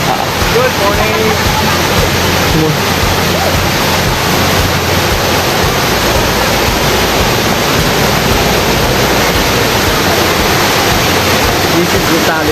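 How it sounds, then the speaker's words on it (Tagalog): Talay Falls, a waterfall in the Philippines, pours with a loud, steady, broadband rush of falling water that continues unbroken throughout. "This is the Talay Falls."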